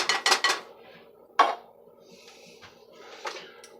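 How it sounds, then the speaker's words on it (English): A spoon scrapes out a metal food can of cream of celery soup for a chicken casserole, a few quick clattering scrapes at first, then a sharp clink and softer scraping, close and unaccompanied. "scrape out the can"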